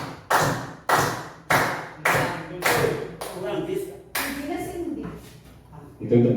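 A class claps a rhythmic seven-clap pattern together, strong unison claps spaced evenly at first, then quieter, looser claps with children's voices mixed in, ending on another firm clap.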